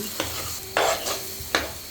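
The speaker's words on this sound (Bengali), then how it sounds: "এই যে আমি চাউলগুলো আরও একটু ভালো করে ভেজে নিচ্ছি" Rice fried with spices for khichuri crackles in a pan, quiet sizzling punctuated by three short scraping stirs of a spoon against the pan.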